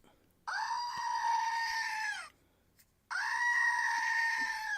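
Two long nasal goat bleats from a sound button, each a sustained wavering cry lasting under two seconds, separated by a brief silence, loud and clear with no talk over them.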